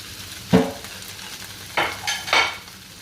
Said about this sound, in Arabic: نحط لها البصل